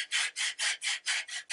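Sandpaper rubs varnish off a wooden gun stock in six steady back-and-forth strokes, each a bright, close scratchy rasp with brief pauses between, with no talking.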